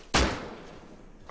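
A single gunshot in the survival game Rust, a sharp loud crack that decays over about a second, followed by a softer thump near the end.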